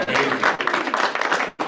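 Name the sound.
applause at a stakeholder meeting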